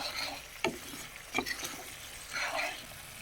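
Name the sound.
stirring salt and chili powder into fish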